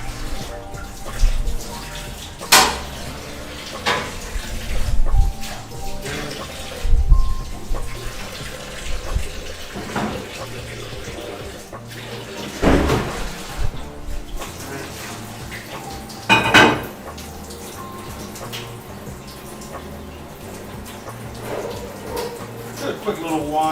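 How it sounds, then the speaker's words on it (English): A dish is washed under a running kitchen tap while lasagna is being made. Steady water flow runs throughout, broken by louder splashes and clattering as the dish is handled, and a person talks over it. "let me go on ahead and wash this real quick"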